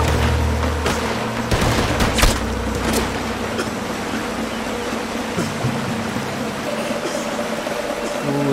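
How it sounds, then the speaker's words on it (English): Gunfire at ships in Red Dead Redemption 2: dense overlapping shots and a few heavier booms crowd the opening seconds, then thin out under a continuous rushing of water, loud and close. "Oh, they're still shooting at those ships."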